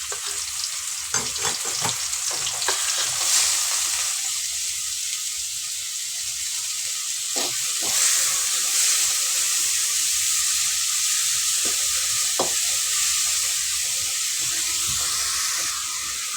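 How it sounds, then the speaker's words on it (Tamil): Cut mushrooms fry in oil with a steady, close sizzle, broken by occasional scraping stirs, over a constant frying hiss. "இப்போ நம்ம காளான் எடுத்து வச்சுருக்கேன் கட் பண்ணி. அதை நம்ம அது எண்ணெயிலே போட்டு வதக்கிப்போம்."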